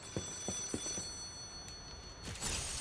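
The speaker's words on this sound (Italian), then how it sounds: "Telefono." A telephone rings in Lies of P, a few short bursts spaced out at the start, then a brighter ring near the end, fairly quiet, with faint mechanical ticking and no talk.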